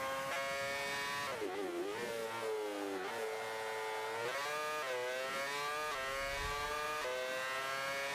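Car engine wailing near its rev limiter in the racing game Forza 5, a continuous high-pitched, harmonically rich whine that rises and dips with gear shifts, loud and steady throughout with no talking.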